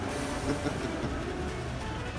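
A small model train runs at an antique society display, giving a steady, continuous rolling rumble with light rail clatter, close and fairly quiet, with no voices over it.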